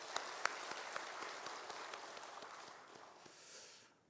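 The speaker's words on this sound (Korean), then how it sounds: "한 번 더 박수하도록 하죠" A church congregation at a Sunday worship service applauding after a choir's song, a broad wash of many hands clapping at moderate distance that gradually thins and fades out, with no talk over it.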